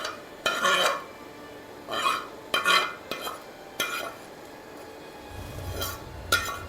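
Tomatoes being stirred into cooked meat (gosht) in a metal pot, with several scraping clinks of a spoon against the pot coming in short bursts, close and fairly loud, and no talking.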